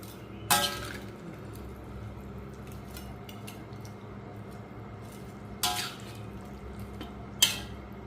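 Chicken curry with jackfruit being stirred in a pot, a few sharp metallic clinks of a utensil against the pot over a quiet low background hum, faint and sparse.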